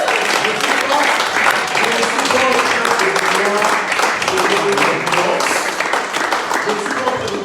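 Church congregation applauding during a Sunday service, sustained crowd clapping with cheers and voices mixed in, loud and steady for several seconds.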